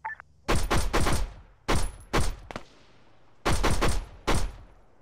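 Gunfire volleys in the military video game Antistasi, set in a battle for Malden: several loud bursts of rifle shots come in clustered groups with short pauses, close and sharp against a quiet background.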